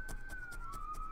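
A distant police siren on a busy street wails with a slowly falling tone, under a steady rhythmic pulsing noise close by.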